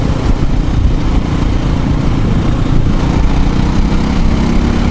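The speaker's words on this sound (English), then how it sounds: "You get that definite chug when you pull the throttle, except it's faster in spinning up" An SWM RS650R single-cylinder motorcycle engine pulls hard under throttle, a loud, continuous, gritty drone with a throbbing low chug held close for the whole stretch.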